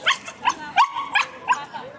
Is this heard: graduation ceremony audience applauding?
no